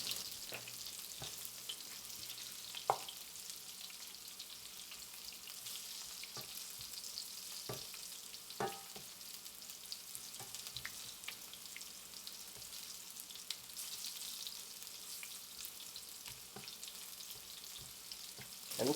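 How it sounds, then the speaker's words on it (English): Eggs and zucchini frying in a pan for a gluten-free scramble, a steady, fairly quiet hiss and crackle running throughout with occasional light taps and scrapes of a utensil stirring them. "we're probably going to fry these another couple of minutes"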